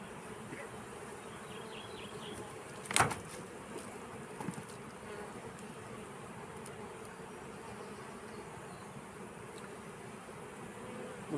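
Honeybees buzz steadily around an open hive being inspected, a constant close swarm drone throughout with a brief louder knock or handling sound near the start and no talk.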